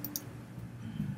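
Keys on a TI-84 CE graphing calculator pressed while letters are entered for a program name, giving a couple of faint, quick plastic clicks near the start over quiet room hiss.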